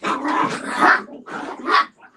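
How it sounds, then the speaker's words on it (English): Several dogs bark and growl excitedly in close, loud bursts, one long run of barking followed by a shorter flurry, with no talking over them. "Your dogs are going crazy."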